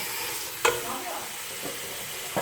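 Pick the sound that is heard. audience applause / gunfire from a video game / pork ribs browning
pork ribs browning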